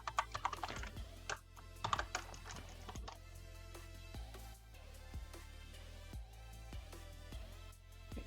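Python code is typed on a computer keyboard in quick bursts of clicking keys, close and fairly quiet, with short pauses between runs over a steady low room hum.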